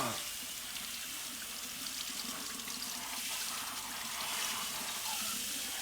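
A shower runs steadily, a constant hiss of spraying water filling the space at moderate volume with no break throughout.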